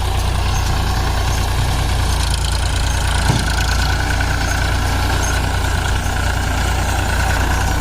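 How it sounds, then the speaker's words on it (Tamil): A Powertrac Euro 47 tractor, a 47 hp model, runs steadily with a baler connected, giving a constant loud engine drone with a mechanical hum and no pauses, and no voices. "டிராக்டர் பார்த்தீங்கன்னா ஆம்பல் பேலர் கனெக்ட் பண்ணி வைக்க சுற்றிட்டு இருக்குது."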